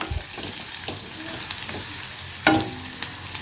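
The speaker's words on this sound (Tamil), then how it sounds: "இதில் வந்து ஒரு வெங்காயத்தை பொடி பொடியாக கட் பண்ணி வச்சுருக்கு அதை வந்து சேர்த்துக்கலாம்" Finely chopped onion sautéing in hot oil with a steady sizzle, scraped and stirred in short bursts; a sharper clatter of a spoon against the pan sounds near the middle.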